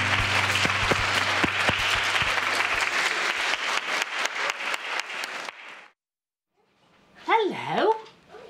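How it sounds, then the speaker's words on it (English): Children at a school gathering applaud together in a dense, lively burst of clapping that stops abruptly. After a short silence, a voice speaks. "And give them a big clap."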